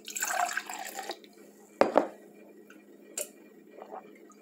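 Water is poured from a container into a Coca-Cola glass, a splashing pour in the first second followed by a few faint drips and small clinks in a quiet room.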